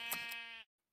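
A single sheep bleats in Minecraft, a short, clear nasal call lasting about half a second and then cutting to silence.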